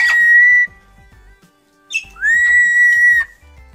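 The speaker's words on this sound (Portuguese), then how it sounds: "Ele dá um assoprinho no bico do Mané e ele assobia lá." A parrot whistles close by: two loud, sustained tones, the second rising then held, separated by a brief pause and a short chirp.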